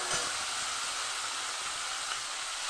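Dried whole chillies and sliced onion fry in hot oil in a pan, a steady, close, hissing sizzle that stays even and unbroken throughout.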